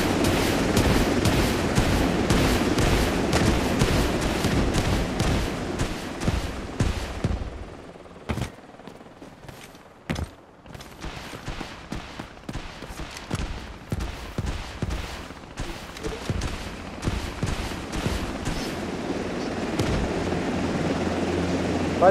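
Gunfire crackles through a Delta Force Mobile battle, dense rattling bursts and scattered shots over a heavy engine rumble, easing into sparser pops midway before the roar builds again, with players talking over it.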